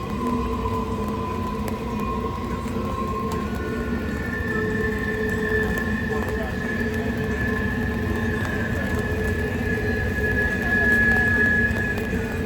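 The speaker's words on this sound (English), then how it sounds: "There's another train in the background, non-stop." A train passes in the background near a campsite on a forgotten movie set, a continuous far-off rumble with sustained squealing tones rising and falling across its length.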